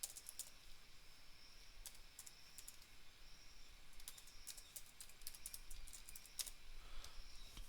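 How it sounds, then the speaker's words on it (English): Rapid keyboard typing on a computer keyboard as an email address is entered, steady soft clicking throughout, close and quiet with no talking. "I'm going to type the email address here."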